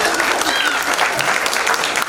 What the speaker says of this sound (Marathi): पुन्हा एकदा आपण जोरात टाळ्या वाजवू